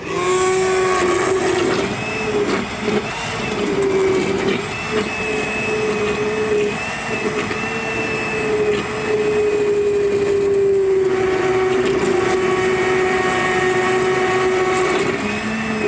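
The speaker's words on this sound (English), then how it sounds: "You can see when I get a good blend going on, all of the soup is moving around through the blender." A blender motor whirs continuously at a steady, high-pitched drone while blending carrot ginger soup, running close and loud for the whole stretch with no voices.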